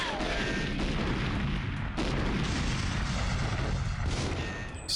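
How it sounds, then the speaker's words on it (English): Cardboard boxes explode in a hallway in GoldenEye 007, a dense barrage of loud rumbling blasts and crackling booms that continue without pause. "I got fucking pushed halfway down the hallway by exploding cardboard boxes."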